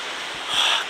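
Rough surf at Omura beach in Toyama, on a shore with no tetrapod breakwaters, a steady broadband wash of waves with a brief swell of louder crashing water midway.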